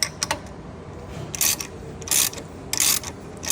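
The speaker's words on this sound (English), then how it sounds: "you can use your handle to hold the stem still while you tighten the stem nut" A wrench ratchets on the stem nut of a Flo-tite 300 series valve during repair-kit replacement, giving several short, close clicking bursts separated by pauses.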